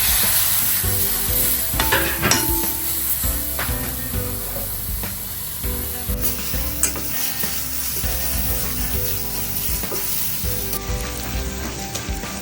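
Tomato fries in a spicy masala for mutton curry, a loud, close sizzle and spatter with repeated stirring scrapes and clatters against the pan, with no voices.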